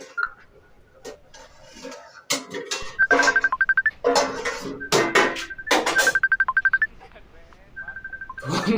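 A phone rings with an incoming video call, sounding as repeated short bursts of electronic beeping tones. Voices talk between and over the rings.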